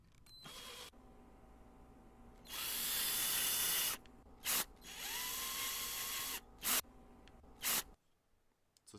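Short drill samples play back in bursts: a brief whir, then a longer high-pitched drilling run, followed by a couple of quick stabs and another sustained whine, each separated by near silence.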